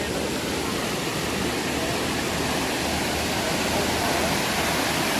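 River water flowing where tilapia are being netted, a dense, steady broadband rush that stays constant and fairly loud from start to finish, with no voices audible.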